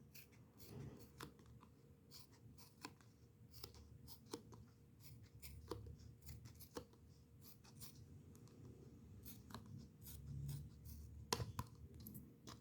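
Pointed scissors snip a crocheted amigurumi piece in a series of faint, irregular clicks and short cuts, close and quiet against a soft background hum.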